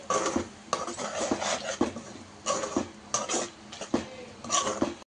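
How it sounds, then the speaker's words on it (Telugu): A spoon stirs green chili and onion chutney in a metal pan, giving repeated scraping clinks in irregular bursts that run throughout, close and moderately loud. "మళ్ళీ పచ్చడి అంతా వేసేసి ఒకసారి బాగా మిక్స్ చేసుకొని"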